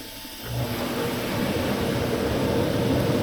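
A jacuzzi's water jets switch on with a soft thump, then a steady, loud rushing whoosh of churning water and motor noise continues without a break.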